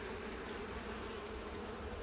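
Honeybees hum in a dense, steady drone during a hive inspection, close and continuous with no talking.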